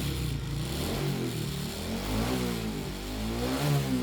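An underbone motorcycle engine revs up and down in a steady droning run, close and fairly loud, with no voices over it.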